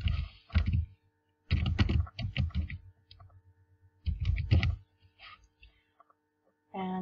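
Typing on a computer keyboard during photo editing work, bursts of quick close clicking keystrokes separated by short pauses, with faint clicks in between.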